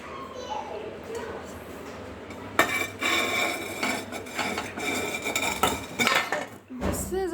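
A heavy dinner-set plate and dishes taken from a Voltas Beko dishwasher clink and clatter against each other, with scraping knocks growing busier and louder midway, up close beside a speaking voice.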